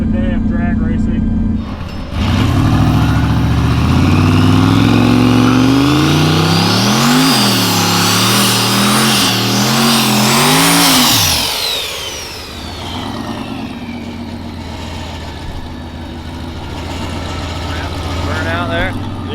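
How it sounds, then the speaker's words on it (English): A Corvette drag car revs hard and launches on a drag racing test pass, its engine climbing through loud, rising gear pulls before dropping off and settling into a rumbling idle, with voices talking over it. "Ready to make our first test pass in Ruby."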